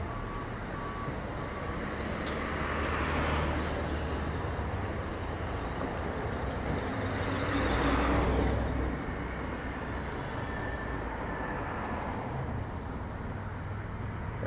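Road traffic moves steadily along a road beside a lake in Marysville, a continuous low rumble of passing vehicles that swells as cars go by around the third and eighth seconds, heard from a distance with no talking.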